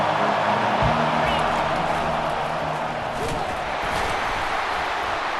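Crowd roar from a College Football 25 game on a third-down defensive stand, a steady wide wash of noise building under the broadcast, with low tonal hum beneath.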